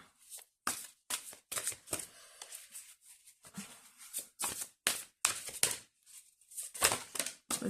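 A deck of oracle cards is shuffled up close, with quick, crisp riffles and slaps that come in irregular bursts and short pauses, faint and with no talking.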